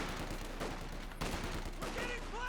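Dense gunfire from a Company of Heroes 2 battle, with Grenadiers firing on a Rifleman squad at a world championship match, a steady crackle of rifle and machine-gun bursts under a caster's voice.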